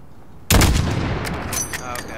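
A sudden loud rifle shot from Call of Duty: Modern Warfare (2019) cracks out close, then rolls into a long echoing boom with scattered distant reports, no talk.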